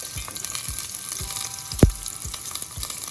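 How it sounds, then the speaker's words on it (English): Biryani ingredients frying in a hot pot on the stove, a steady close sizzle with small bubbling pops and one sharp louder crackle midway, no voices. "It will start to bubble up like immediately because the stove is hot."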